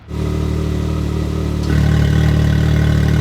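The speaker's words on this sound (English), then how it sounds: "allows you to choose between two completely different exhaust notes, best described as moderate and aggressive." A UTV engine with an MBRP active exhaust idles with a deep rumble, stepping up noticeably louder and more aggressive partway through as it switches from moderate to aggressive mode, continuous and close.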